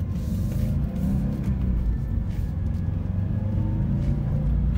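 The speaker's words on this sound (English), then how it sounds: "That boxer engine though, it's so unique." A 2019 Subaru WRX STI's boxer engine drones and rumbles steadily up close, a continuous low growl as the car accelerates along back roads.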